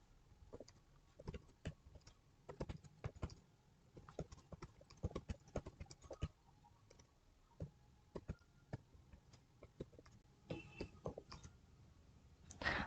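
Rapid, irregular clicking of keys as numbers are typed on a computer keyboard, quiet and close, with bursts and short pauses throughout.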